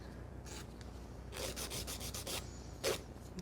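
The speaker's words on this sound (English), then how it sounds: "file around the cuticle area" A nail file scrapes around the cuticle area of a sculpted builder fiber gel nail in short, close, dry rasping strokes: a quick cluster of several rubs in the middle and a few isolated passes before and after, with no talking.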